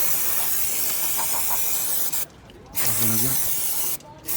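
Cleaner sprayed onto the rear brake of a Honda VFR1200X motorcycle, heard as loud, close hissing bursts separated by brief pauses, with a short spoken remark between them.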